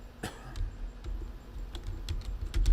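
Keys clack on a computer keyboard in short, irregular bursts, close and fairly quiet, with several sharper key strikes scattered through.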